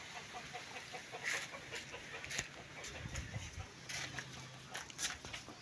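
Faint clucking from a chicken somewhere off in the distance, scattered short calls over a hissy outdoor background.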